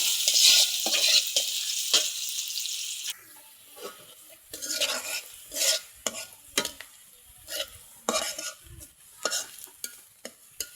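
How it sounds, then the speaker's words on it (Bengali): Onions sizzle in hot oil in a pan while being stirred, with a bright steady crackle at first and then a run of scraping stirring strokes close by, with no talk. "পেঁয়াজটা লাল লাল করে একটু ভাজবো।"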